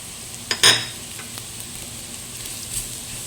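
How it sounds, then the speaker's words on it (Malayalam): Onions sautéing with spice powders in a pan for a Kerala-style chicken curry, a steady close sizzle with a few sharp scraping stirs of the spoon, and no talking. "പച്ചമണം മാറുന്ന വരെ നമുക്കിതൊന്ന് വഴറ്റി കൊടുക്കാം."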